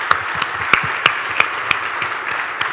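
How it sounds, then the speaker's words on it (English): Audience applause for a panel at a supply chain conference session on the factory of the future, a steady wash of clapping from a modest room crowd with a few sharper, closer claps standing out, no voices. "let's give our panel a hand of applause"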